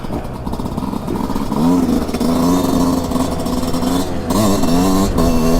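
A 2022 Yamaha YZ 125 or YZ 250 two-stroke motocross engine revs and climbs through its range on a ride in Italy. It sounds loud and continuous and rises in pitch in several surges, with no voices over it.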